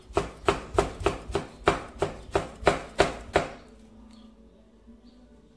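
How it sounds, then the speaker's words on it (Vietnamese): A knife minces chili peppers rapidly on a cutting board, about eleven quick, even strokes, then stops, leaving quiet. "Mình đi băm ớt."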